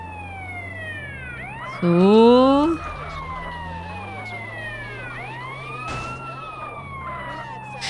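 Wailing ambulance siren from the video game GTA San Andreas, sweeping up and down steadily throughout with a brief louder burst of rising tones, while someone talks over it.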